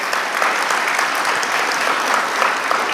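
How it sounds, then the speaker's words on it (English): A conference audience at a tech networking event gives a sustained round of applause, a dense, even roar of many hands clapping at full strength throughout, with no voices above it. "Please help me give them all a round of applause."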